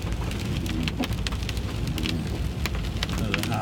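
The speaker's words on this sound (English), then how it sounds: "as the rain continues to fall" Heavy rain pouring steadily during flash flooding in Tennessee, a dense hiss with sharp drops spattering close by and a low rumble underneath, continuous throughout.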